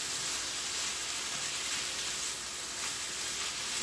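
Chicken and vegetables sizzle and fry in a big skillet, a steady, even hiss of hot oil held close and fairly loud with no talking.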